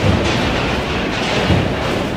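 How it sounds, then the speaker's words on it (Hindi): Bangkok metro train shaking during an earthquake gives a loud, continuous rumbling rattle of rail cars, steady throughout with a couple of heavier jolts. "बैंकॉक में भूकंप के झटके इतने भयंकर थे कि पूरी मेट्रो ट्रेन ही जोरदार तरीके से हिलने लगी।"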